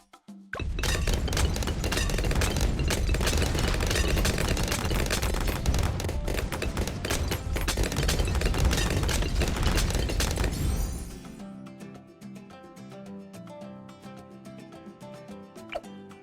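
Sniper monkeys fire bouncing bullets in Bloons TD 6, a dense, loud barrage of rapid gunfire cracks and pops layered with game sounds for about eleven seconds, then dropping to quieter background game music.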